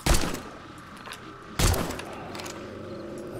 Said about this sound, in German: da jagst aber auch einiges an Munition durch